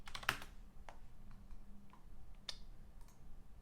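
Someone typing on a computer keyboard: sparse, quiet key clicks in short irregular bursts over a low background hush.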